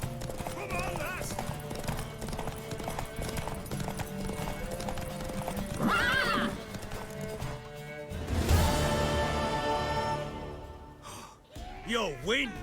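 Horse hooves clip-clopping at a quick pace beneath a rowdy scene of shouting voices, with a gasp and a brief whinny near the end, all set in a wild hunt gathering in a fantasy drama.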